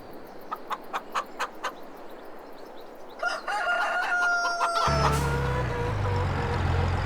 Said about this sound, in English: And so now I've got chickens.